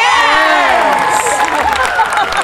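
Spectators at a horse show event cheer and shout loudly and close by, a dense burst of excited voices with whoops rising over the arena.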